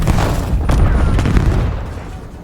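Heavy gunfire booms in the Black Ops 7 video game, a string of close, punchy shots over a couple of seconds that trail off toward the end.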